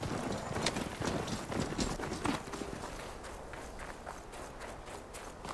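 Horse hooves clatter in the video game Horizon Forbidden West, a quick irregular run of thuds and clops over a busy, noisy game background, fading slightly toward the end.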